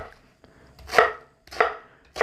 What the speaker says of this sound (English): I'm just going to do a coarse chop on most things here.